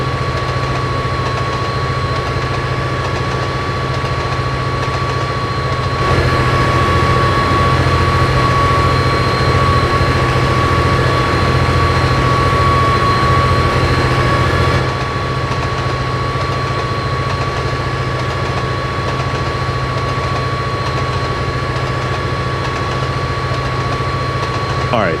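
A locomotive engine under load in a top-speed run drones loudly and continuously, a deep rumble with a steady tonal whine that briefly swells in the middle.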